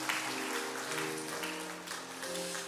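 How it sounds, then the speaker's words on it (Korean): Steady applause from a church congregation during a Sunday service fills the space, with music or a sustained tone playing underneath. "우리 인사할 때에 다시 한번 큰 박수 하겠습니다."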